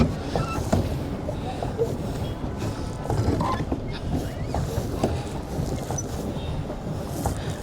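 A rowing boat crosses close by on Yercaud Lake, with soft, continuous water lapping and splashing amid light wind rumble and occasional knocks of the oars and hull.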